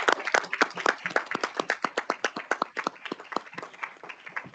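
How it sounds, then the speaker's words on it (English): Sparse applause at a district board of health meeting: a small group claps in a quick, uneven rhythm of distinct hand claps, close and clear, tapering off toward the end. "And let's give them a round of applause."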